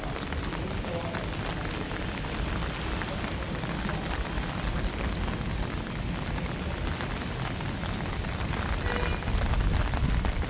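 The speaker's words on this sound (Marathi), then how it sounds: "भीमाशंकर खोऱ्यात पावसाची दमदार बरसात होत आहे." Heavy monsoon rain pouring in the Bhimashankar valley near Khed, Pune, a dense, loud, unbroken roar of falling water that stays steady for the whole stretch.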